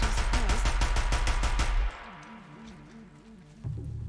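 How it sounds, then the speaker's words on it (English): Rapid automatic gunfire in a first-person shooter video game, a loud burst of evenly spaced shots that stops abruptly, followed by quieter game sounds and background music. "See if I can shoot this guy now."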